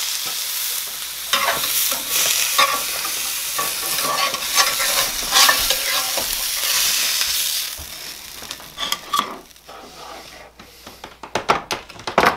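A T-bone steak sears in hot stir-fry oil with a loud, steady sizzle and crackle, broken by scraping and clattering near the end.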